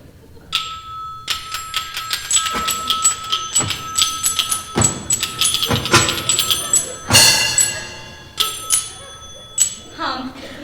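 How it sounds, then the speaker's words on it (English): A church clock bell tolls midnight in a series of bright, ringing strikes with long decaying tones, loud and close, sometimes under talk. "It is now midnight, as we can tell by the tolling of the clock at the venerable St. Pat McPatrick's Church."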